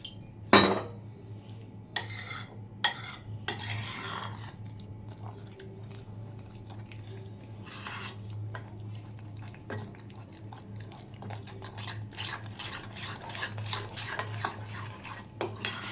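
Semolina and sour yogurt batter being mixed with a little water in a bowl: a few sharp clinks of a spoon against the bowl at first, then a steady soft wet stirring and scraping that grows busier toward the end.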